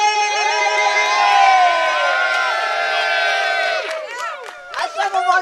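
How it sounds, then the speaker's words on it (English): A crowd of people at a Black Lives Matter gathering in Chesterfield lets out a loud, sustained cheer with whoops and high shouts, tapering off into scattered yells near the end. "A big cheer."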